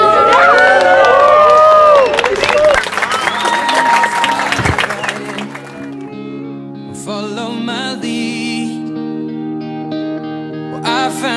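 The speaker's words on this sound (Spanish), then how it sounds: "Vamos a darles un aplauso, claro que sí." Guests at a Christian wedding ceremony at a hacienda applaud and cheer for the newly married couple, a loud burst of clapping and crowd noise that gives way to music with singing.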